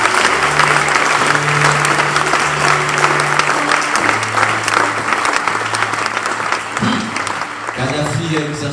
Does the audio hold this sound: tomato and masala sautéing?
no